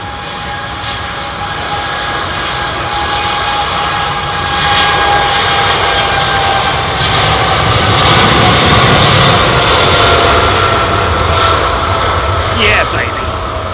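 Airbus A320 airliner engines at London Heathrow Airport give a steady, loud jet roar with a high whine, swelling slightly midway as the aircraft passes nearby, with faint voices underneath.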